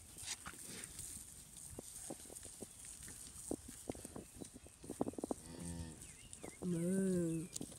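Cattle moo on a farm, one long low moo and then a second deeper one rising over a scattered clatter of hooves and shuffling in the pen.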